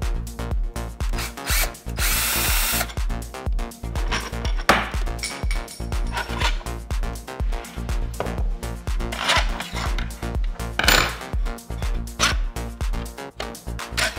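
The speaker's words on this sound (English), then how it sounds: "hold down that T-nut with your finger while you unscrew the bolt" A power tool unscrewing long bolts from a battery case, loud close bursts of whirring drilling with short pauses, plus scattered clicks and knocks between runs.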